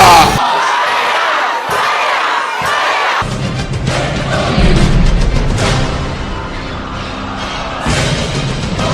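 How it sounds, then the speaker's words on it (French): A church congregation erupts in loud, sustained acclaim, a dense crowd roar of cheering and shouting that swells after an opening burst and carries on at full volume with thumps mixed in. "Acclame très fort pour la gloire de Dieu"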